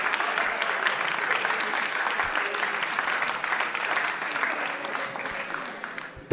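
An audience claps steadily through a comedy show performance, a broad sustained round of applause at moderate distance, tapering slightly before a sharp sound at the very end.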